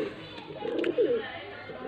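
Baby pigeons cooing softly from a coop in Faisalabad, a few low murmuring coos bunched in the middle of the clip over a steady background hum.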